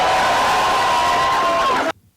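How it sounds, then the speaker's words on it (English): A crowd at a political rally cheers and whoops in a loud, sustained wash with a rising tonal shout running through it, then cuts off abruptly near the end. "Why are they cheering?"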